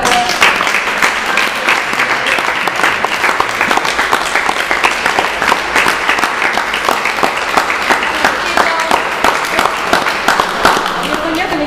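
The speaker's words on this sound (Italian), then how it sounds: "Un altro applauso per me." An audience at a chamber music concert in Italy applauds, dense continuous clapping from many hands filling the room at a steady, lively level for over ten seconds, with voices mixed in.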